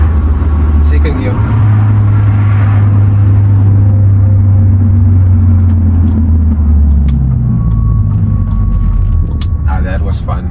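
A Maserati sports car engine in sports mode rumbles loud and close while driving down a South African mountain road, shifting down through the gears. Someone talks over the engine throughout.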